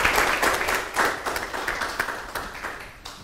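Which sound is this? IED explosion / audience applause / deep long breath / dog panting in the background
audience applause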